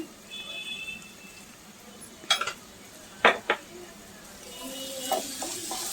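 A spoon clinks a few times against a pan while kofta curry gravy is mixed with salt, giving sparse metallic taps over a quiet background.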